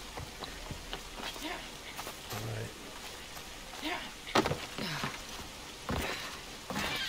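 Rain in the video game Assassin's Creed Odyssey: a soft, continuous patter and hiss of falling rain with scattered faint taps, heard under a person talking.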